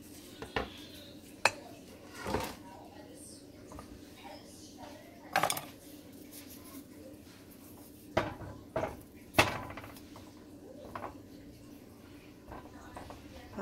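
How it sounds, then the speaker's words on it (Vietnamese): A knife cutting food on a wooden cutting board in a home kitchen, heard as scattered sharp knocks and taps with pauses between them, close by over a low background hum. "Giờ mình sẽ cắt ra. Mình lấy tấm thớt lên ha."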